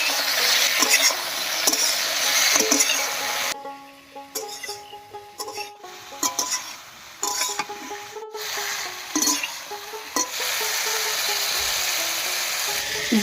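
Ridge gourd frying in a pan with a slit tomato added gives a loud, close sizzle that drops to a quieter patch in the middle and then swells back to full hissing.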